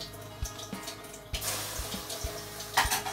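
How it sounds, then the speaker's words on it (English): Water poured onto a wok preheated over medium heat, giving a burst of broadband hissing sizzle after a few sharp taps and clinks, with splashy spattering continuing nearby and no talk. "So now to check if it is ready to use, we can put a water on it."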